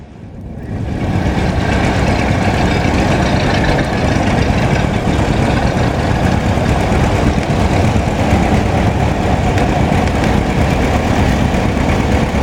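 The original 40-horsepower four-cylinder engine of a 1931 Model A Ford runs steadily at an outdoor club show, giving a loud, continuous, close rumble that holds even from start to finish.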